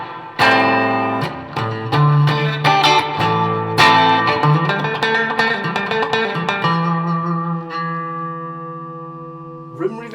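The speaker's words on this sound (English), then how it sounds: "I do actually have reverb on." Electric guitar notes and chords ring out through a VOX VT20+ amp with digital reverb, trailing long reverb tails, with a final note left to decay and a brief pluck at the end.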